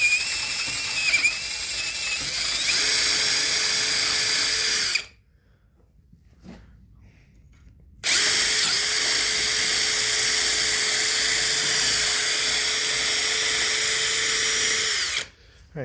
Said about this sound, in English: now I got my drill. I'll try to hone this out.